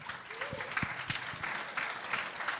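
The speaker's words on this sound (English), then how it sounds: "Can you please give our wonderful guest a big round of applause?" Audience applauding a guest at the close of a DeFi panel on decentralized exchanges: steady moderate clapping across the room with a few louder individual claps standing out.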